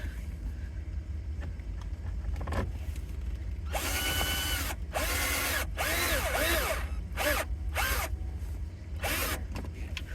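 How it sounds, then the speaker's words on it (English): Inside a van in cold weather, a power screwdriver drives screws in several short, loud whirring bursts separated by pauses, close to the listener, with low background rumble throughout. "2 more screws. Yep, same screwdriver."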